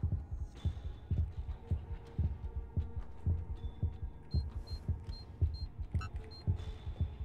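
A slow, steady heartbeat from the video game Fahrenheit Remastered thumps in a regular double-beat rhythm over a low hum, with faint high tones, and no talking.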